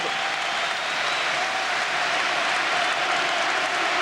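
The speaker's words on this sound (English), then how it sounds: "He goes off to a huge ovation." Applause from a stadium crowd of nearly 50,000 at a 1996-97 Champions League group match between Ajax and Rangers, greeting a substituted goalscorer. The clapping is loud, dense and sustained throughout, with no talk over it.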